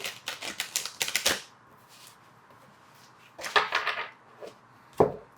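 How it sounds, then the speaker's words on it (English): A deck of cards riffle-shuffled twice, a rapid burst of crisp flutters followed by a shorter second riffle and a final snap, close and clear. "Let's get one more shuffle."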